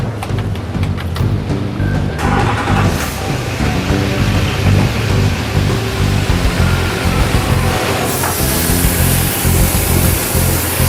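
A diesel truck with a damaged particulate filter idling loudly during a filter cleaning service, with a steady broadband rush of blowing air over the engine drone that brightens partway through.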